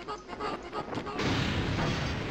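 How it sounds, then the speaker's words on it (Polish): A mortar round explodes in the video game MDK, a loud broadband blast that comes in at once and fills the rest of the clip. Before it come several rumbling bursts. "Tutaj mam moździerz, czyli specjalną amunicję do karabinu snajperskiego i muszę trafić tam pociskiem, żeby wpadł do środka."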